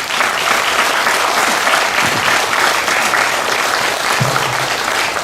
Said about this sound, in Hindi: सभी को हम तालियां